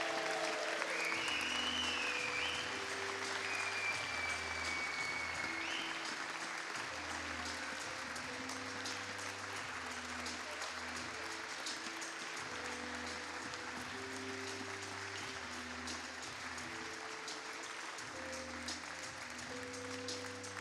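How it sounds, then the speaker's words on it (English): An audience applauds continuously for a table tennis champion at a senior national championship women's final, steady clapping throughout with faint low tones underneath. "And can we have a big cheer, please, for this year's champion, Maria Tsaptsinos."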